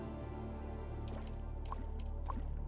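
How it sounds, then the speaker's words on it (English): Water extraction in the video game Dune Awakening: a few soft, liquid drips and squishy drops fall over a steady low droning hum, faint and spaced about half a second apart. "And let's extract some water."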